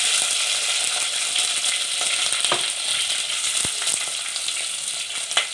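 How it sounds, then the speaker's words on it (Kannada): Sliced onions and curry leaves fry in hot oil in a pan for ridge gourd lentil sambar, giving a close, steady sizzle with a few stirring scrapes and pops. "ಇವಾಗ ಇದನ್ನೇ ಸ್ವಲ್ಪ 2 ನಿಮಿಷ ಫ್ರೈ ಮಾಡೋಣ."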